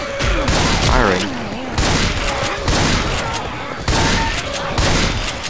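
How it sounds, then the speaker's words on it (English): Repeated shotgun blasts and chaotic zombie combat from Left 4 Dead 2, a dense, loud barrage with bursts roughly every second, with someone talking over the fire. "I don't think that my shotgun really can cut much too much. I'm just fucking firing."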